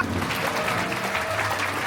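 Wedding guests in a hall break into steady, dense applause as the ceremony opens, many hands clapping together at close range with no pause.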